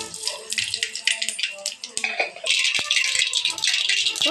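Mustard seeds splutter and crackle in hot frying oil for an egg curry, giving a dense, close popping rattle that turns into a steady sizzle.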